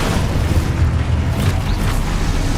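A dense, continuous roar of Confringo blasting-spell explosions in Hogwarts Legacy, heavy booming rumble sustained throughout with overlapping bursts and no clear gaps.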